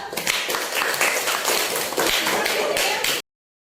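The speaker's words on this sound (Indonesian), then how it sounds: "beri tepuk tangan kepada kelompok 2." Classroom students applauding a presenting group, a dense continuous clatter of many hands clapping for about three seconds, then stopping abruptly into silence.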